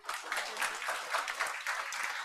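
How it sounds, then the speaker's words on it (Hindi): Applause from a classroom of students, a dense steady patter of many hands clapping at moderate volume, continuous and without pause throughout. "ताली बजा दो अब तो।"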